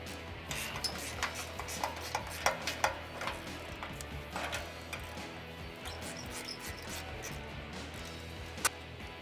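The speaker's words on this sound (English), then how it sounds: "we're gonna disconnect the rear bolts here. They're 14mm." A wrench works on the 14mm rear H-pipe bolts of a Mustang GT, giving soft, irregular ticking clicks and light metallic taps that sit close by over a steady low hum, with no talking.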